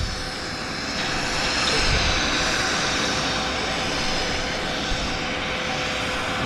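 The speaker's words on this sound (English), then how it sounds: "Got American Airlines taxiing out." An American Airlines jet taxis at Vancouver Airport, its engines giving a loud, steady whine and roar that stays constant throughout, with no talking.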